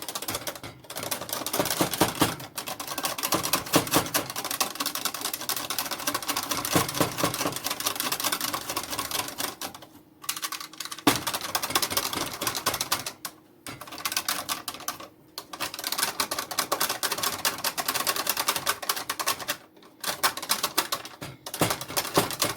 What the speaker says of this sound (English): And then I'm going to kind of whisk this up.